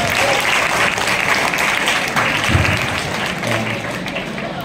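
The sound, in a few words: audience applause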